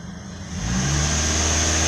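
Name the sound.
2009 Pontiac Vibe engine revving under throttle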